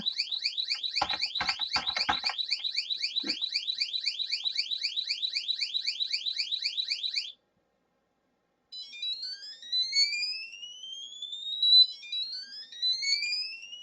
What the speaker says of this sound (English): It will play notes like in a scale continuously for a little bit longer.